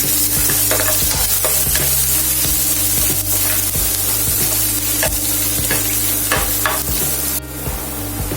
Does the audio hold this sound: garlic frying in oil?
yes